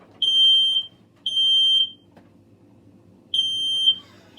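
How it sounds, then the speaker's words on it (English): An indoor smoke alarm sounds three sharp, high-pitched electronic beeps, each one a brief doubled chirp, spaced about a second apart over a quiet room. "That's the smoke alarm."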